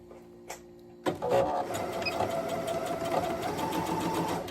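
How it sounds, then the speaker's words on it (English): Sewing machine stay stitching fabric, starting after a short quiet moment and then running steadily with a continuous whirring, rapid needle hum, fairly close and loud with no talking. "Let's do this thing. Stay stitching."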